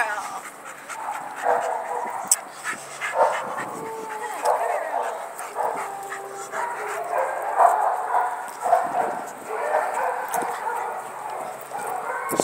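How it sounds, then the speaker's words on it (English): Golden pet dog panting, whimpering and giving a few short yips outdoors on a walk, close and moderate in volume, with people talking over it. "She's a pretty good dog, huh?"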